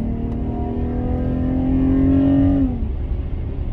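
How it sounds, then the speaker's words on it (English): A truck and car traffic on a highway on-ramp make a steady, loud engine drone with a rising then falling tonal whine, close by and continuous, with no talking. "What is this truck doing?"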